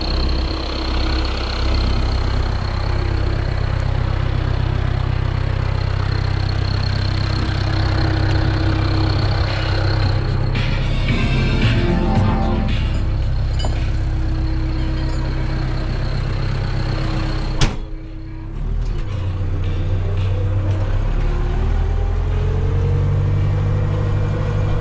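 Tractor running at about 1700 rpm while rolling a newly seeded meadow at roughly 8 km/h: a continuous loud engine drone with low rumble, heard from the cab, with a brief clunk partway through.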